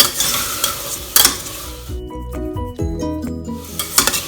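A spoon stirs asafoetida and spice powders into pearl millet khichadi in a hot pan. Close scraping strokes and soft clinks sit over a steady sizzle, with no talking.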